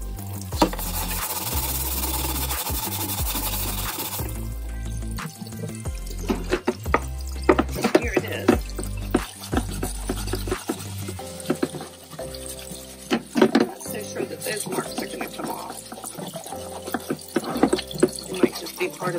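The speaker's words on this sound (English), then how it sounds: "Hard scrubbing. It's amazing how tough the skin on these gourds is." Copper scrubbies rub hard against the tough skin of a gourd under running water, making repeated gritty scraping strokes and splashes. Background music with a heavy beat plays underneath.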